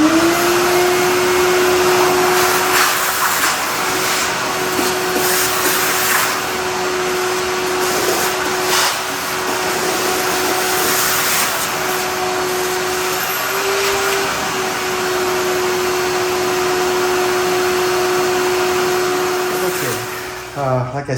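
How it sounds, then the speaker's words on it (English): A vacuum cleaner runs steadily while cleaning a Packard Bell 10RP1 hi-fi radio chassis, a loud close whine with shifting suction noise as the nozzle moves, then cutting off at the end. "let's vacuum that little guy"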